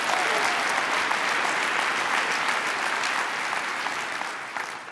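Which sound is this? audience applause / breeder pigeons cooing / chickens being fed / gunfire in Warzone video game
audience applause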